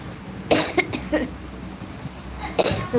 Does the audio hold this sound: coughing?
yes